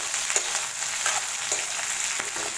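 Okra sizzles steadily in hot gingelly oil as it is sautéed for vendakkai puli kuzhambu, a continuous bright frying hiss broken by a few soft clicks of a spoon against the pan.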